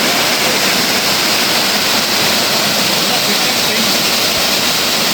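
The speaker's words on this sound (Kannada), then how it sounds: "ಇಷ್ಟೇ ಫಾಲ್ಸ್" A Kerala forest waterfall roars loud and close, an unbroken dense rush of water filling the whole stretch.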